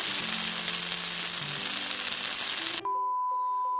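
Pre-cooked pork skin sizzles and crackles loudly on a hot griddle pan for a few seconds, then the frying noise drops away abruptly, followed by faint tones.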